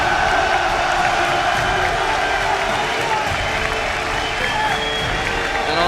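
Large esports crowd applauding and cheering at the 2014 League of Legends All-Star grand finals between OMG and SK Telecom T1, a dense, loud, continuous wash of clapping and shouts with voices faintly mixed in.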